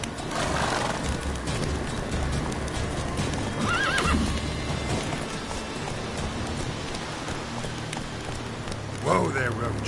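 Roach, the horse in The Witcher 3, gallops with steady hoofbeats and rain in the background, neighing loudly near the end and again briefly around the middle.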